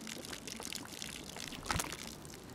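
Water pouring as a canister is refilled in DayZ, a soft continuous trickling wash with a brief louder splash near the end, fairly faint throughout.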